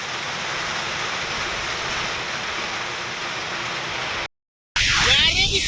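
Steady, dense roar of heavy late-season retreating-monsoon rain and strong wind over farmland, continuous and loud, briefly cutting out near the end before resuming.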